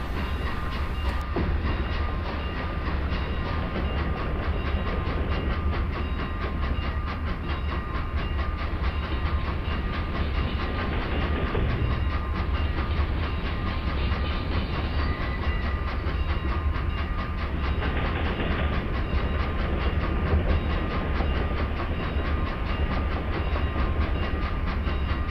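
Freight train in the Microsoft Train Simulator game rolls steadily past a rail yard water tank while slowing, with a continuous rumble, wheel clatter and engine drone, loud and close throughout with no talking.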